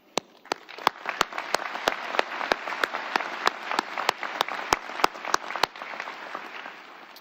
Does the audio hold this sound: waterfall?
no